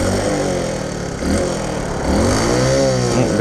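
The engine of a 1973 Honda C90 motorcycle with a sticky throttle revs up and down in a few close, loud surges with some mechanical clatter.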